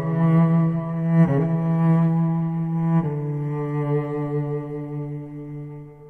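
A lyrical cello phrase ending from a SonuScore sample library plays alone, a sustained bowed line that shifts notes twice before settling and tapering off gently.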